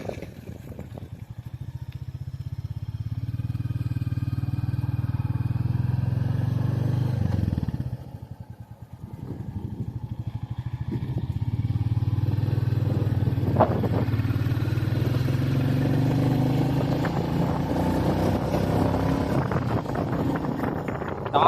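A Royal Enfield Bullet 350 with a J-series engine riding along, its steady low engine rumble continuous under heavy wind noise, dipping briefly midway before rising again.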